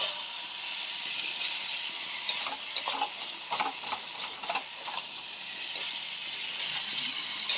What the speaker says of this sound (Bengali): এই যে এখন আলু আর পটল কষিয়ে নিচ্ছি